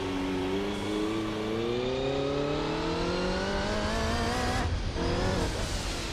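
A race car engine in the video game Gran Turismo 4 drones loudly and steadily, its pitch climbing smoothly through a gear, dipping briefly at a shift, then rising again, with no voices over it.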